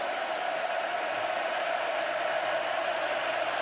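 A stadium crowd at a Texas A&M football game against Alabama roars on without a break: a dense, steady wash of noise at constant loudness, with no single voice standing out.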